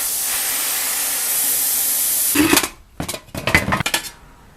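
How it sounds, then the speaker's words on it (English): A carburetor blaster runs with a motorcycle carburetor sealed inside, giving a loud, steady broadband hiss and spray that cuts off abruptly, then returns in rattling, sputtering bursts before trailing away. "I'll let the blaster run for about 30 minutes"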